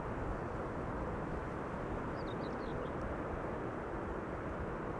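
A large airliner, likely a triple-engine or widebody jet, taxis slowly across an airport, its steady low engine rumble broad and constant throughout, with faint distant bird chirps briefly above it.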